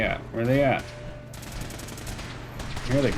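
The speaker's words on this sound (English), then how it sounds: "I hear the gunfire." Gunfire from a firefight in the video game Fallout 4. A burst of rapid shots rattles between stretches of someone talking, sounding moderately loud behind the voice.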